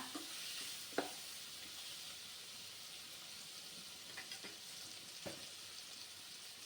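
Tomatoes soften in a pan for banana flower curry, a quiet continuous sizzle with a few sharp spoon taps and stirring scrapes, heard close but faint and without talk.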